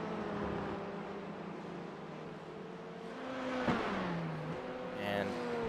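Race cars in a sim racing esports game at Oulton Park International circuit, their engines whining steadily in layered tones beneath continuous commentary, with one car sweeping past in a sharp pitch drop near the end.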